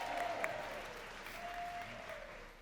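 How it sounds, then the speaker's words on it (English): Steady applause from a developer conference audience, a continuous wash of clapping that holds fairly even for a couple of seconds before easing slightly. "Give him a round of applause."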